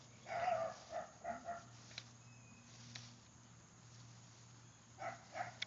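Nearby, a dog gives a run of short, sharp barks, pauses through a stretch of low hum, then barks a few more times.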